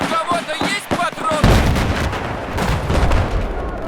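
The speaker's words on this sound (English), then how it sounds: "Is that a mortar?" Mortar rounds in the video game Battlefield 4 land as a string of heavy booms and rumbling blasts, loud and close, with a voice talking over the barrage.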